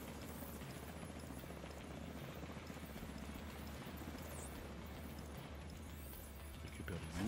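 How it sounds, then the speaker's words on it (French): A helicopter in the video game The Division 2 sets up a steady rotor chop that runs the whole way at an even, moderate level, with no talking over it. "Encore un hélico."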